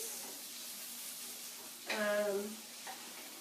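Leeks browning in butter in a pan give off a steady soft sizzle, with a brief louder tonal squeal partway through.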